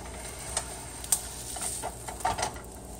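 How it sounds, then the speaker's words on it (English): A Reuben sandwich with melting cheese and sauerkraut toasts in a pan, giving a quiet, steady sizzle broken by a few soft scrapes and clicks as it is moved, with no voices. "Now we'll toast it on both sides."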